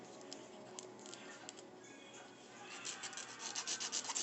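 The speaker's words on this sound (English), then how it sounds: "And I'm just going to file it" Builder gel nail filed with a 100 grit file: a quiet, close scratchy rubbing that turns into quick, rhythmic back-and-forth strokes toward the end.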